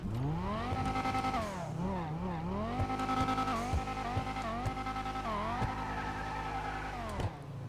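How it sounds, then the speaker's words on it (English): The Banshee sports car in GTA Online revs hard, its engine note climbing and dropping in repeated sweeps, loud and close, with short dips between bursts of throttle and no talk over it. "First things first, we got to do the rev."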